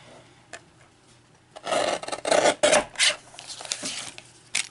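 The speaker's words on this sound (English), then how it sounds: "So I'm just going to get out my trimmer and trim off some scraps." A paper trimmer slices through cardstock scraps, giving a few short, close rasping scrapes after a quiet start.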